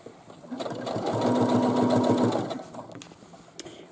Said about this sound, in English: Please sew at your own speed that you are comfortable with.